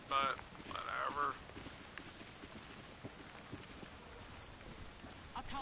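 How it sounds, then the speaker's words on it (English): Steady, faint rain patters throughout in the video game Assassin's Creed Syndicate, with a voice speaking briefly near the start over the downpour. "it's raining and I'm getting wet"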